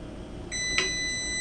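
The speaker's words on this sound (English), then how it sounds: "and that timer should be going off." A kitchen timer goes off with a steady electronic beeping tone, sounding over a low background hiss after a pot of old dry beans has been at a rolling boil.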